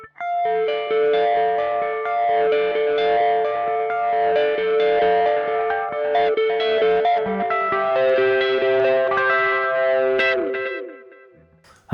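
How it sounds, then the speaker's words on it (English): Electric guitar plays a melodic part through a phaser and a stereo tape delay set to dotted eighths on one side and quarter notes on the other. The sweeping tone and layered repeats are loud and continuous, ending in a lingering decay with no talking. "I need a phaser and I need to change to a dual delay, one on each side."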